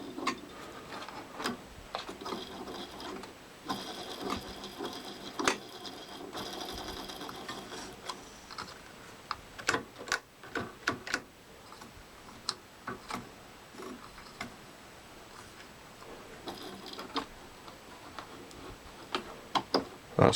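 Ferguson 3V36 VHS recorder motor with noisy, worn bearings turning, giving a steady mechanical whirr with irregular ticking and clicking spikes, close and fairly quiet, with no talking.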